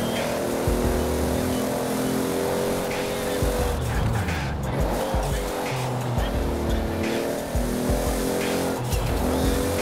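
A Toyota Trueno drifts in the racing game Forza, its engine revving and shifting loudly while tires squeal through the slide, with other race cars roaring nearby and a voice talking underneath.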